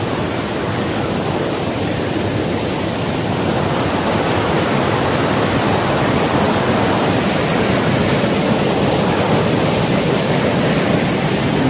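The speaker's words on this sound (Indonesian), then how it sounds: "di sini ada air terjun kecil seperti ini." A small waterfall on a mountain hiking trail on Gunung Gede Pangrango rushes in a steady, loud, close roar of falling water with no pauses.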